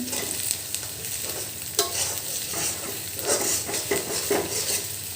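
Beef tripe frying in a pan while being stirred, a steady sizzle broken by repeated scrapes and metallic clinks of the utensil against the pan, close and clear with no talking.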